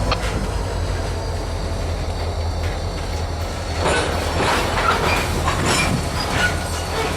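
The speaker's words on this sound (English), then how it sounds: "The conductor lines the spur track switch back to the siding track and gets in position to push the train back to the tied down center beam car" A freight train pushed back slowly along a siding track, with close rumbling wheels, clacking over joints and a rising metallic squeal and screech from the wheels in the later part.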